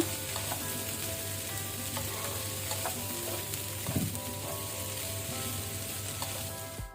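Cauliflower and green peas sabzi stirred in a hot pan, a steady sizzle with scraping spoon strokes running continuously and close, no talk.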